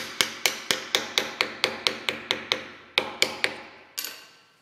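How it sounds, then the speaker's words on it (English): Sharp metallic hammer blows shaping sheet metal over a hammerforming die, a steady run of about a dozen close, loud strikes with brief ringing decay, a short pause, then a few more spaced hits. "you don't want to get greedy and try to do the whole thing at once"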